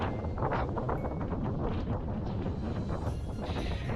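Gusty wind buffets the microphone in uneven rumbling bursts, a rough low roar that swells and eases throughout.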